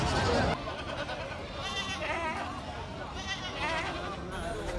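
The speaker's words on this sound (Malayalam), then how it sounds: "ഇപ്പോൾ വണ്ടിയിൽ നിന്നൊക്കെ ആട് ഇറക്കിക്കൊണ്ടിരിക്കുകയാണ്" Goats bleat repeatedly amid a busy Kerala goat market as animals are unloaded from vehicles, the calls mixed with near and distant voices of people talking throughout.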